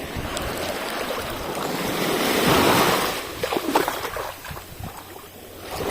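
Surf rolls onto a shore, a broad wash of water swelling loud in the middle, then breaking up into splashy crackles, with wind buffeting the microphone throughout.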